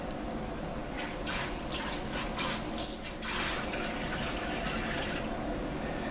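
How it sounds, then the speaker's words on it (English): Water pours and splashes over a tanned leather panel being wetted for sporran making, a close, continuous running-water rush with bursts of stronger spray. "Again, wet the panel."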